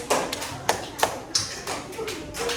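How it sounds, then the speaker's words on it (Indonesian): Children clap for a group of classmates in an elementary school classroom. A handful of separate, uneven claps sounds close by, with some scattered taps in between. "tepuk tangan buat kelompok 1"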